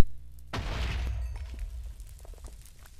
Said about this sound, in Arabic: إذا حاولت تنام في الإند أو النذر بتسوي انفجار كبير